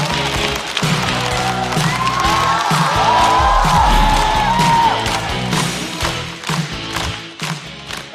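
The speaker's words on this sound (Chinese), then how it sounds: "掌声欢迎 Seven。" A studio audience at a stand-up comedy show applauds and cheers to welcome comedian Seven, with loud sustained clapping, whoops and thumps building and then tapering off.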